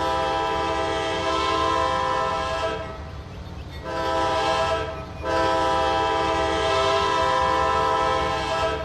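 A Trainz video-game train runs along the Cornetsville branch, its horn blaring in long, loud sustained blasts that stop briefly twice over a steady rumble of the moving train.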